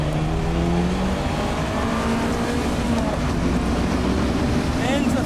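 A 1980s performance car on a circuit track test accelerates hard out of a chicane in second gear, its engine a loud continuous rising drone heard from inside the cabin, with a shift toward the end.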